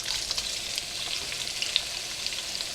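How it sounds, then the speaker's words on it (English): Sliced sausage, about 14 ounces, sizzles steadily in hot oil in a pot, a close, continuous frying hiss with small crackling pops and no talking. "Okay, we got a nice sizzle going on."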